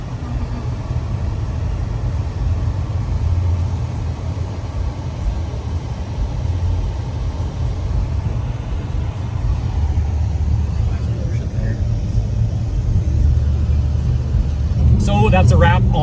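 A car arriving at the Willow Springs International Raceway burnouts and barbecue event, its low engine rumble growing slightly louder, with people talking over it and a brief rattle at the end.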